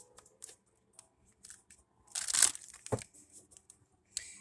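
A deck of tarot cards is shuffled close up, with soft papery crinkles and riffles building into a louder flurry of card slaps midway, then scattered lighter rustles.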